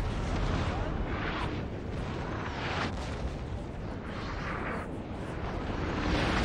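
An artillery barrage in Napoleon: Total War roars as a dense, continuous battlefield rumble of overlapping cannon blasts, loud and unbroken throughout.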